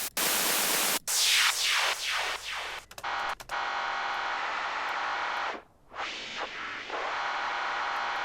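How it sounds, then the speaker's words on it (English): White noise generated by a synthesizer in Bitwig for hi-tech psytrance sound design, a loud constant hiss repeatedly swept by filter and cut by brief gaps and a dip near the end, with no voices. "Let's go to white noise."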